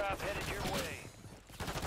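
A gunshot or short burst from a first-person shooter game, sharp cracks up close among dense game noise, with a player talking over it.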